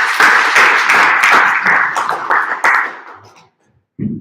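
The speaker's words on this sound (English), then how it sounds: "a big applause for our first speaker" An audience at an evening talk event claps for the first speaker, a short burst of close, dense hand clapping that fades out after about three seconds, then a brief pause before the speaker's voice begins.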